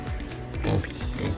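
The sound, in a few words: pig oinking on a farm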